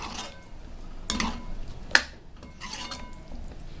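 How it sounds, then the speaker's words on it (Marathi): A spoon stirs soybean and potato bhaji in a pan, giving a few scraping clinks with a sharp metallic tap near the middle, close by and fairly quiet, with no talking. "आता आपल्याला मिक्स करून घ्यायचं आहे"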